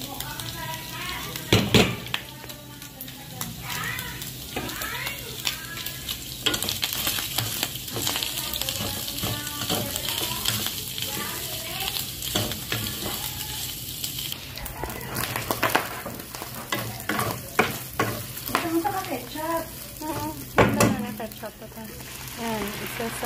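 Ground pork, onion, garlic and hotdog sauté in a pan for Filipino spaghetti, with soft continuous sizzling and occasional clinks of a utensil against the pan while a person talks over it.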